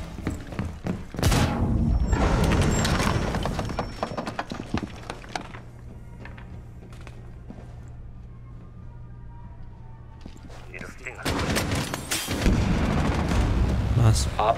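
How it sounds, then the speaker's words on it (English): A nitro cell explosive detonates in Rainbow Six Siege. Loud broadband blasts come at the start, then a lower-level stretch with a steady hum, and a second burst of heavy impacts near the end. Indoor combat noise runs throughout. "Detonate nitro."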